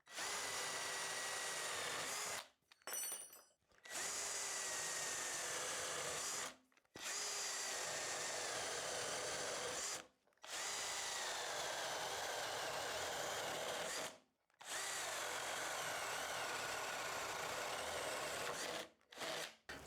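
A Ryobi RDD18 18V cordless drill driving a 10 mm hole saw, whining loudly in five sustained bursts separated by brief pauses, close and alone.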